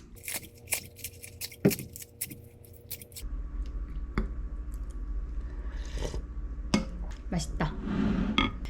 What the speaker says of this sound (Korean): 파는 가위로 그냥 숭덩숭덩 썰을게요